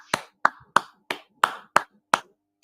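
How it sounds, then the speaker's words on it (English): Seven sharp hand claps in a loose, slightly uneven rhythm, each a crisp isolated smack with short gaps between, close and fairly loud with no voices. "Clap it up, clap it."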